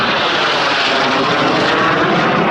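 An early turbojet F-86 Sabre fighter jet flying an airshow demonstration at McEntire Joint National Guard Base in 2017 gives a loud, steady, broadband engine roar that holds close and unbroken throughout, with no voices.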